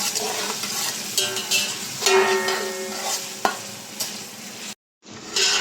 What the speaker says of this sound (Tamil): இதை ஒரு 2 நிமிஷம் நல்லா வதக்குவோம்,